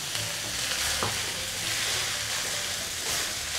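A chopped medium onion and half a chopped bell pepper sauté in a hot pan with a steady, close sizzling hiss and a brief scrape of stirring.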